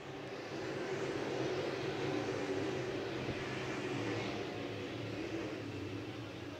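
Open wheel modified race cars roar around Talladega Short Track during an Ice Bowl feature, making a continuous, dense engine drone heard from a distance with no breaks or speech.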